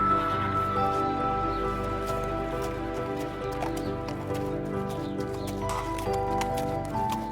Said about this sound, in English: try exploring by horse and pony